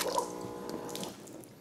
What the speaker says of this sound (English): I just spilled some water.